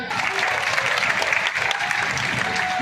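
Sustained audience applause at a live Bageshwar Dham divine court gathering, a dense steady wash of many hands clapping, loud and continuous throughout with faint crowd murmur beneath.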